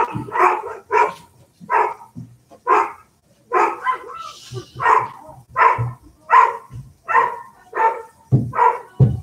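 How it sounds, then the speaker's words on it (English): Two collies bark repeatedly, about a dozen sharp woofs in an irregular rhythm, close and loud, with a brief gap partway through, heard outdoors on an icy day. "my dogs are barking"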